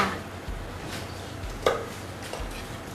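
A knife taps on a cutting board in a few spaced chops, soft and close, over a faint background hum.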